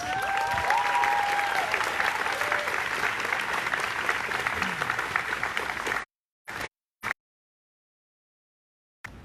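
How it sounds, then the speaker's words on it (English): A rally crowd for justice for Breonna Taylor applauds loudly and steadily for about six seconds as a speaker is introduced, then the clapping cuts off abruptly, leaving a couple of short bursts and near silence. "Clap her up, clap her up."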